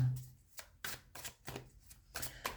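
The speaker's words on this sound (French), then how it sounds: "On va mettre une troisième carte." Tarot cards being laid down on a table one after another: soft, close slaps and papery shuffles in a quick irregular rhythm, faint and alone without talk.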